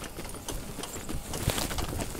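Hooves of an untrained horse jogging clip-clop in an irregular, quick rhythm, moderately close, over a steady outdoor background, with no speech.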